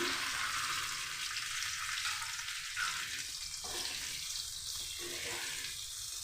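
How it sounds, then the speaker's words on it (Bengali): Pieces of teasel gourd (kakrol) fry in hot oil with a continuous, bright sizzle close by, softening and swelling slightly in waves. "কাঁকরোলটাকে একটু আমি এই তেলের মধ্যে দিয়ে ভেজে নিচ্ছি।"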